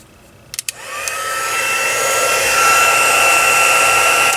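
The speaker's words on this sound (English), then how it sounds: "Turn the heat tool back on." A heat tool switches on after a few clicks and blows hot air steadily over embossing powder on a stenciled card, a loud close whirring hiss that builds slightly and holds steady, with no voices.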